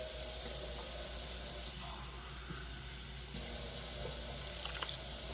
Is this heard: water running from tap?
yes